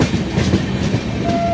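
A passenger train runs on the rails near Krishna station by the Krishna River, with a steady, loud rumble and rolling wheel noise, continuous and close, with a faint tonal whine toward the end.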